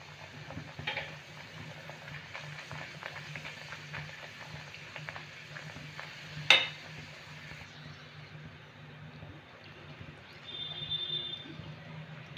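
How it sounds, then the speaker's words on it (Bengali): Hing kachori, asafoetida-flavoured stuffed pastries, fry in hot white oil in a wok, giving a faint, steady bubbling sizzle with one sharp click midway. "ভাজার জন্য এখানে আমি কড়াইয়ে সাদা তেল গরম করে নিয়েছি।"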